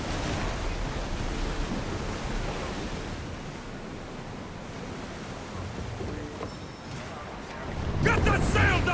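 A sailing ship crosses ocean waves in Assassin's Creed Odyssey, with soft rushing water and wind hiss beneath a speaking voice, rising into a louder splash at the end.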